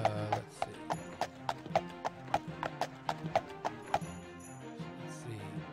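A horse gallops in the game Daggerfall Unity, steady rhythmic hoof clip-clops repeating about every third of a second over background game music, fairly close and even.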